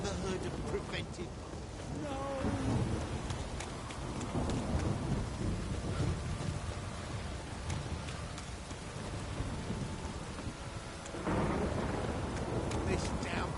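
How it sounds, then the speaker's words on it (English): Continuous pouring rain with deep thunder from The Witcher 3 game, a thick wash of droplets that stays loud throughout, swelling again near the end. "This downpour's a bastard,"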